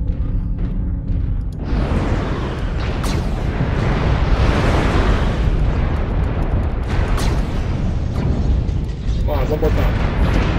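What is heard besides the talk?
LRM missiles fired and exploding in MechWarrior Online video game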